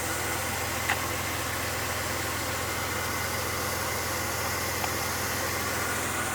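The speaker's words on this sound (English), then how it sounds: "Vehicle has a very, very nice rumble with the exhaust." Steady idle of a Stage 2 Jeep Cherokee XJ, a low, even exhaust rumble that holds constant throughout with no revving, heard from close by and without speech.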